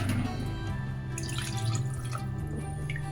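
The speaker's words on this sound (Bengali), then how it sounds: "আমি আরেকটু জল দিয়ে দেবো।" Water pours into a pot of potato and cauliflower dalna, a continuous close splashing trickle that runs for a few seconds with no speech.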